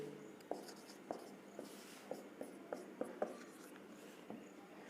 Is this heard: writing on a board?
yes